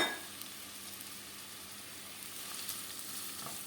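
Chopped onion sizzles in hot oil in a pan on a stove over medium heat, a soft, steady frying hiss that holds evenly throughout with no voices.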